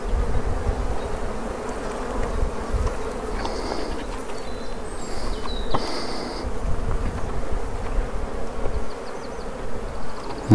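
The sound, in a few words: honeybees buzzing around hive frames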